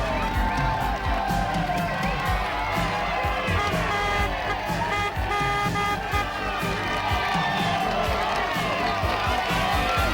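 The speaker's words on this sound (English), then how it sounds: "To an enormous cheer, Teddy Clavarola goes over the top of the climb" A roadside crowd cheers a climber cresting a mountain climb in the 1990 Tour de France, a loud, sustained roar mixed with car horns and engines, with voices heard in the din.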